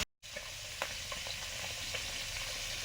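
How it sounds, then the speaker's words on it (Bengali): Bitter gourd frying in a wok, a dense, even close sizzle with a few soft stirring clicks, starting abruptly after a brief gap and then continuing without pause. "এই কড়াইতে উচ্ছেটা ভেজে নেব।"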